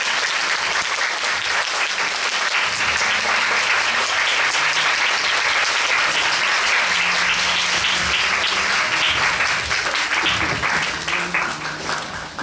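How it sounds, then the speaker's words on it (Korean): Sustained applause from a theatre audience for the cast of the play 'Nasty Magnet' at the close of a post-show audience talk, dense and steady for about ten seconds before tapering off, with faint voices underneath. "이 시간까지 같이 해주신 배우님들께 큰 박수 부탁드리겠습니다"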